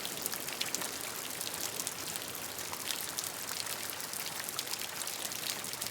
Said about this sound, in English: Listen closely to the rainfall.